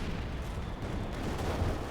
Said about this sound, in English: Mortar battle here continues, very close to the ace level